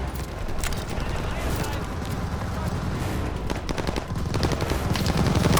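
Enemy machine gun fire in the Call of Duty Vanguard video game, sustained rattling bursts mixed with a rumbling vehicle and battle noise, while soldiers shout over the top.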